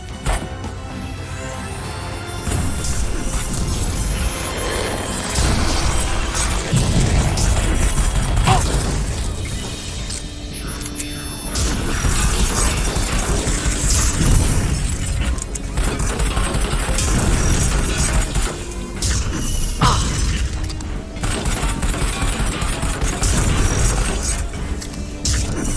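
Rocket blasts and crashing impacts boom repeatedly through a virtual-reality shooter game, Raw Data, with rattling bursts of weapon fire and mechanical clatter filling a loud, chaotic stretch of combat.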